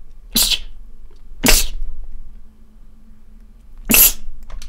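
Three loud, sharp sneezes sound nearby, each a sudden burst set apart by a second or two of near quiet over a low steady hum.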